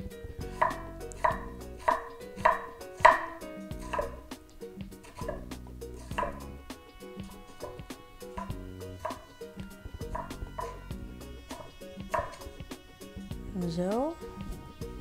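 Knife chopping cucumber on a cutting board for Vietnamese spring rolls, quick rhythmic taps in bursts, close and crisp, with a few clinks of kitchenware and a voice talking over it.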